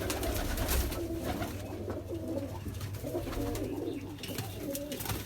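Bazi pigeons coo continuously in a loft, low throaty rolls over a dense, noisy background, several birds close by.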